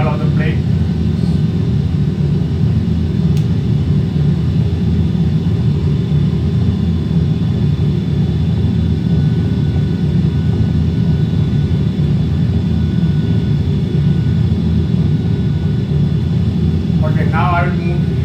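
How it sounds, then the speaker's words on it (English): Airliner engines in a flight simulator game as the plane climbs after takeoff from Bradley toward Boston Logan, a steady loud droning roar that holds throughout, with a person talking over it. "Now you can see the plane is climbing."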